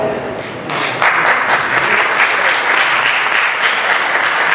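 An audience at a lecture in Buffalo, New York bursts into applause, a dense and sustained clapping that swells after a brief softer start and stays loud throughout.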